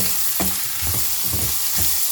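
Onions frying in a pan for a Telugu-style potato fry (aloo fry), a steady close sizzle with occasional stirring scrapes and clicks throughout.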